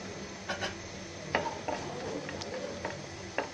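Bay leaf, cinnamon and cardamom sizzle in soybean oil, a soft, steady crackle under several sharp clinks and taps of a spoon against the pan.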